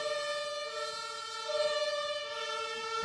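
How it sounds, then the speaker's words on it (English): A siren sounds at a civic gathering, a steady tonal wail with a sharply ringing, harmonic-rich pitch that holds nearly constant for a few seconds with no voices over it. "after this very loud sirens noise"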